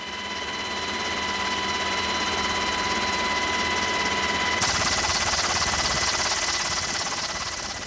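An army utility helicopter fighting a wildfire drones with a steady rotor and turbine whine and strong tonal hum, its noise jumping brighter and harsher partway through and staying loud and close.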